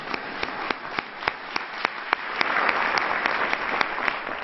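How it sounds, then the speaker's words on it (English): An audience at a talk on veteran homelessness claps together for housing every veteran, a full room of steady applause with distinct sharp claps standing out and building slightly louder. "To all, clap for that."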